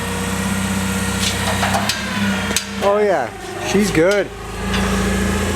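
A forklift engine idles and revs with a low steady hum while suspending a heavy semi exhaust stack onto a diesel Volkswagen Beetle in a shop, under close, loud talk between workers.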